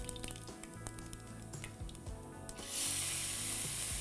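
Cumin seeds and fenugreek dropped into hot oil crackle with small pops, then a loud steady sizzle bursts in as more goes into the pan, close and alone.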